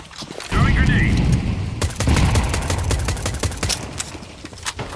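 In a video game, a grenade explodes with a loud, heavy boom that rolls on, mixed with rapid bursts of gunfire and a steady rumble, close and dense throughout.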